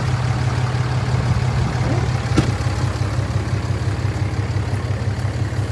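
Old car engine running steadily after a jump-started battery, a loud, close, even idle with a low rumbling drone throughout and one brief sharp tick partway in.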